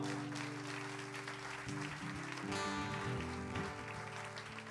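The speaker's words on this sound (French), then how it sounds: "on l'applaudit bien fort" Audience applause at a band concert in Bussigny near Lausanne, a steady wash of clapping with sustained musical tones ringing underneath throughout.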